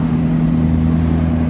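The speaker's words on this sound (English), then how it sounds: "this guy just rocked up in a P1 GTR, driving it into a lot" A McLaren P1 GTR rolls into a parking lot, its engine a steady, loud mid-pitched drone with a strong low hum holding constant throughout, close by and with no voices.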